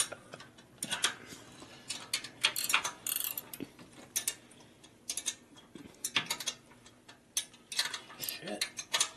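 A ratchet clicks in quick bursts while bolts are tightened during a Harley Twin Cam Road Glide camshaft install, with metallic tool clatter between pauses, close by and fairly faint.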